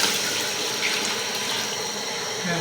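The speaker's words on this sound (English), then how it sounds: "now we are going to add in some water for the stew" Water pours steadily into a pot for a fresh tilapia stew, a continuous close splashing gush that lasts the whole short moment.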